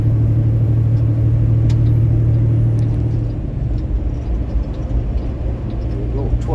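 A big rig truck engine drones loudly and continuously as the truck accelerates up to speed before merging, a deep steady rumble with a shift in tone partway through.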